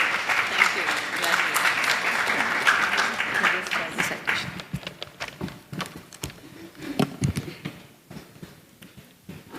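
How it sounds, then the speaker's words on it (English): An audience at a Bharatanatyam arangetram breaks into loud applause, dense clapping that thins into scattered claps as it fades over several seconds. "Let's all give her a big round of applause."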